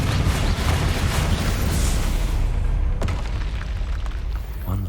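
A loud, sustained spell explosion from the Hogwarts Legacy video game, a dense roaring blast that rumbles for several seconds, then a sharp crack and a fading tail.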